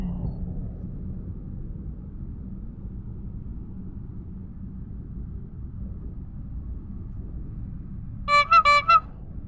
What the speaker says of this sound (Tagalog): Sobrang traffic pa din.